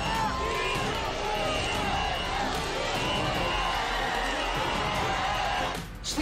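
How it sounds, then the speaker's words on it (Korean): A television studio audience at a televised debate applauds loudly and continuously. The thick wash of clapping lasts about six seconds, then cuts off abruptly near the end. "박수로 부탁드리겠습니다."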